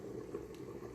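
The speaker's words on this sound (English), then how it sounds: "so here we have it boiling" A pot of vegan jambalaya at a rolling boil, with low, steady bubbling and gurgling heard close and alone, no voices.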